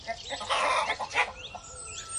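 A hen clucks as a sound effect in a French children's farm story, with a short run of bright, close clucks and squawks over about two seconds, standing alone without speech.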